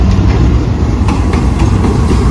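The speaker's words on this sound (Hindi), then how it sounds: "तो दोस्तों फाइनली आज की लीडिंग पावर GU40 9013 हमारे सामने से गुजर रहा है।" American-built GU40 locomotive number 9013, a newly painted 4500-horsepower unit leading the Pak Business Express, rumbles past up close with a steady, loud low roar and faint rhythmic clatter of wheels throughout.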